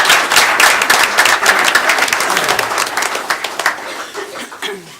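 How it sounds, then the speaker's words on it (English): Loud applause from a crowd at a city committee meeting, sustained and dense, gradually thinning toward the end with a few scattered claps and murmurs. "And please join me in a round of applause for Paul Sirachi."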